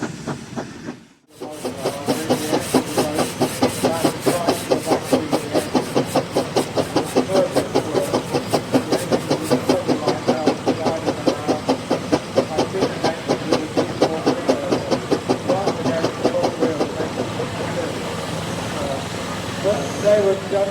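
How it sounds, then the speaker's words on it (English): A steam engine at a steam rally chuffs in a steady, rapid rhythm with a hissing undertone, loud and close for a long stretch, with people talking over it now and then. "That's what a proper steam engine sounds like."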